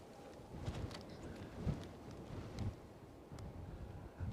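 Strong gusty wind at Edinburgh airport buffets the microphone in a steady roar that rises and falls with the gusts, with no one speaking.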